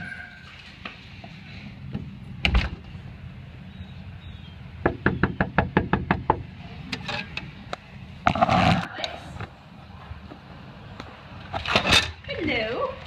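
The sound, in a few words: knocking on a door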